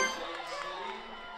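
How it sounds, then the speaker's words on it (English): An excited crowd at the 2020 NNL Ninja League World Championship cheers with a steady, dense roar, with a commentator talking over it. "Very excited crowd behind him"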